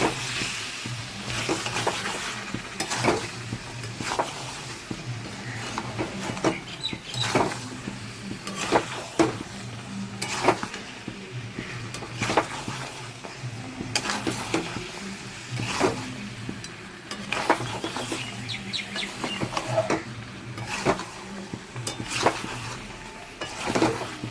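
Meat with garam masala is sautéed in a pan, giving a soft hiss under repeated sharp scrapes and knocks of a spatula at a fairly regular pace, moderately close and fairly quiet, with no talking.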